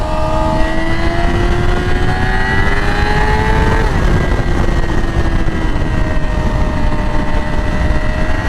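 A Yamaha R6 motorcycle engine pulling hard after a downshift, a loud continuous whine rising in pitch, dipping briefly at a shift then climbing again, with heavy wind noise throughout.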